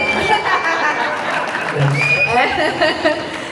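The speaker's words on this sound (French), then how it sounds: "Encore un applaudissement" A crowd at a campaign launch rally in Nogent-sur-Oise applauds, with clapping mixed with cheers, chuckles and chatter, and voices talking over the noise throughout.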